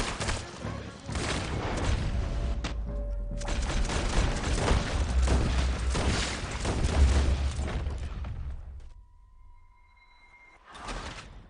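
Loud, dense gunfire and booming blasts from a Red Dead Redemption 2 shootout fill most of the scene, then die down to a quieter tail with a steady tone before a last burst of noise.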